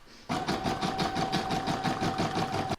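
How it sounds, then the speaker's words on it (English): Embroidery machine stitching a reversible acorn placemat: a steady, fast mechanical whir with a rapid, even needle rhythm that starts abruptly and runs unbroken for a couple of seconds before stopping, close and alone. "I'm now going to pop that in my machine and stitch round to number 2"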